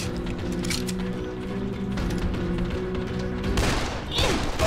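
A burst of rapid gunfire in Dead Island, a quick run of close, punchy shots over steady game background, with a louder jolt at the end and no talk.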